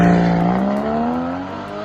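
A Porsche 981 Cayman GTS with PDK gearbox runs loud and near. Its engine note climbs smoothly through the revs, then eases slightly, with a steady rising drone and no voices.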